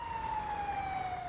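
An ambulance siren from the video game GTA V with the LSPDFR police mod wails as one steady, slowly falling tone, loud and alone.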